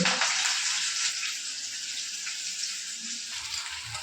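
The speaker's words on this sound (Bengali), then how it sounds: "এখন তেল গরম হয়ে গেছে, এখন কিন্তু পেঁয়াজগুলো দিয়ে দিচ্ছে" Onions dropped into hot oil in a home kitchen, a steady loud hiss and sizzle that starts strong and slowly settles, with faint clatter near the end.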